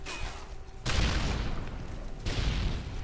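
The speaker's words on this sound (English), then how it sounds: "Why did my flash grenade not get this guy?" A flash grenade goes off in Call of Duty: Modern Warfare 3, a loud broadband burst followed by sustained noisy rumble and a second surge of the blast, no talk.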